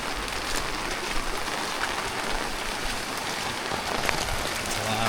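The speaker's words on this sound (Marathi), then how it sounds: "पाऊस पाऊस पाऊस." Steady monsoon rain pours down on a Konkan village garden in Ratnagiri at morning, a continuous close hiss of drops hitting plants and ground, even in loudness throughout with no voices.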